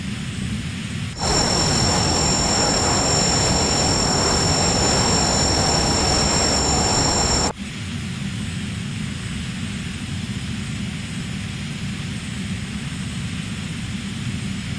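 Fouga CM.170 Magister jet engine in Microsoft Flight Simulator 2020, a loud steady roar with a high whine that cuts abruptly to a lower, quieter drone partway through, with no talking.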